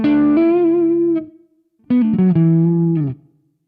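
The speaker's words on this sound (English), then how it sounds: "let's have a tiny little bit of reverb" Electric guitar through a Softube Marshall amp plugin with a touch of reverb: two sustained distorted chords, each ringing for about a second and fading into a short reverb tail, loud and alone.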